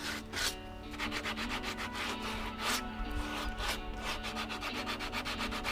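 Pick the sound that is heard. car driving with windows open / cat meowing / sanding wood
sanding wood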